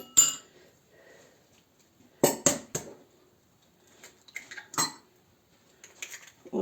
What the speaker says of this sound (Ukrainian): Сюди одиво б'ємо одно яйце у цю, е, у цю, у цей стакан.